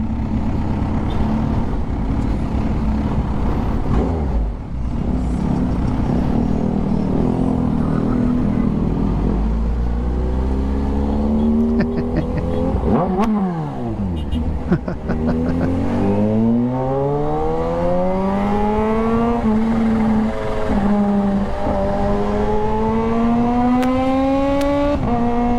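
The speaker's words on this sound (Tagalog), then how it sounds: "Solid ka talaga, ZH2. Solid ang ingay mo." A Kawasaki ZH2 motorcycle engine roars loudly and close, with a rough rumbling idle giving way to repeated revs that rise and fall in pitch, sustained throughout with no talking.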